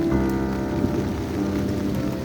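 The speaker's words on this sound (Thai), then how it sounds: "ฝนตกอยู่ตลอดเลยครับเน้อ" Steady rain patters on a surface nearby, a dense continuous hiss with a faint low hum underneath.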